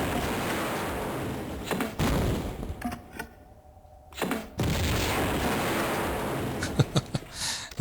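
Gunshots in Tomb Raider Remastered, loud sharp cracks and booms in a cavernous space, with a brief near-silent lull in the middle before the firing and echoing clatter resume.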